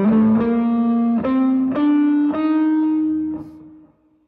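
A distorted electric guitar plays the altered scale, the seventh mode of melodic minor, in a metal style: several sustained notes picked one after another in a slowly climbing line, loud and close, the last note ringing out.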